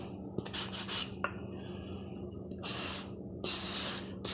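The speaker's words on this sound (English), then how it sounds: "I'm going to take some 220 grit sandpaper and very lightly sand the surfaces" Light hand sanding of a wooden floor register cover with 220 grit sandpaper: a few short, soft scratchy strokes up close, then two longer hissing passes near the end.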